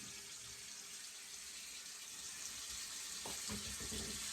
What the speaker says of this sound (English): Then the water sound ceased.